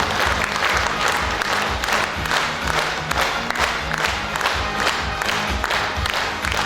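A large audience applauds machine-milking operators at an agricultural workers' day event, dense clapping from many hands sustained throughout with no pause.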